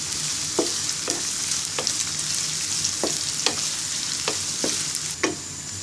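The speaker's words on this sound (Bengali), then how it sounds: "এবার পেঁয়াজ কুচি এবং রসুন কুচিকে বাদামি কালার করে ভেজে নিব।" Chopped onion and garlic fry in oil for a tomato sour dish, a steady moderate sizzle broken by repeated sharp scrapes of a spoon stirring against the pan at roughly half-second to one-second intervals.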